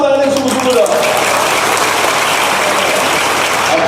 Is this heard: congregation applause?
yes